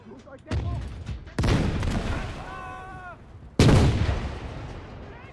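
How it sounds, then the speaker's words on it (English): A Tiger tank fires its cannon through smoke in the Gates of Hell battlefield game: two heavy, booming blasts several seconds apart, each trailing off into a rumbling decay, with a voice speaking briefly between them. "Tiger tank's attempting to hit it through the smoke."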